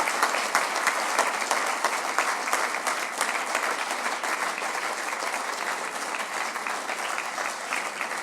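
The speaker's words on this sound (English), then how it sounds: "Big round of applause for record breakers." Sustained applause from an awards-ceremony audience at the Royal Automobile Club, greeting two record-breaking drivers from Australia; dense, steady clapping fills the room without pause, close and even throughout.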